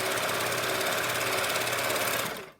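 A serger overlocker runs a continuous rolled hem along wrap dress fabric, a steady fast mechanical whir that holds at full volume and then spins down at the end, with no talking.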